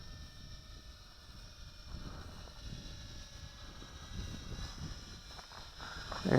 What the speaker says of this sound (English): Heck of a wind right now.